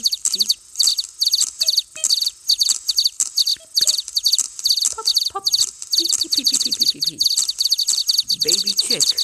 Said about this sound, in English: Can you find 13 baby chicks?